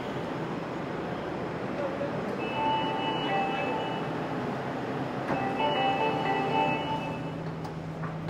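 An Agra metro train runs with a steady rumbling hum and brief tonal whines, heard from inside or beside the carriage at a fairly loud, continuous level.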